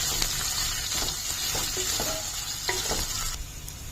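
Chopped onions, ginger and green chilies sautéing in a pan with a steady frying sizzle and occasional spoon-stirring scrapes, close and moderately loud, with no voices.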